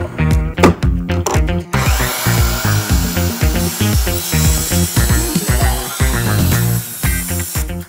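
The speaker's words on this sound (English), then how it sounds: "So let's drill those holes right here, and then we can cut the actual rings." Holes are drilled through dipole antenna rings with a power drill. The drill's whine comes in loud, rapid bursts with rattling and grinding of the workpiece, and there is no speech.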